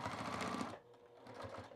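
A sewing machine stitches a thick seam on overalls, running steadily and close for most of the moment before stopping abruptly, leaving quieter handling sounds behind.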